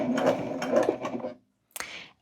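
A sewing machine stitches forward and back on a fabric makeup and travel bag, with a quick, close, rhythmic chatter for about a second and a half, a pause, then a short burst.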